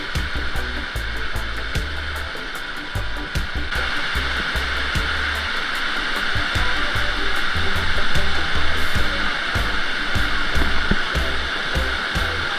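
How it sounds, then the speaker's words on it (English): Steady, loud rushing of fast-flowing water at Dunn's River Falls, Jamaica, a continuous broadband roar that swells slightly partway through, with no voices. "The water rushes pretty fast through here"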